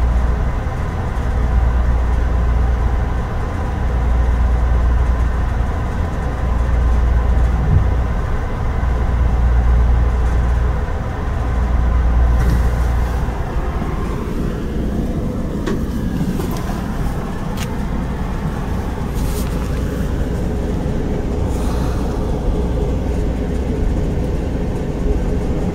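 Amtrak Texas Eagle passenger train backing up, a loud continuous low rumble of rolling cars heard from on board, with brief creaks and metallic squeals surfacing in the second half.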